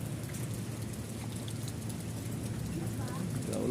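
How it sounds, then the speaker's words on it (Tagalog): Heavy rain falls during a typhoon, a dense, even roar of drops drumming on surfaces that grows slightly louder toward the end, with no voices. "isang lakas ng ulan kanina"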